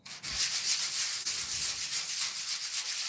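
Hand sanding of a base coat with folded 320-grit sandpaper, a close rhythmic scratchy rubbing with repeated back-and-forth strokes, no talking.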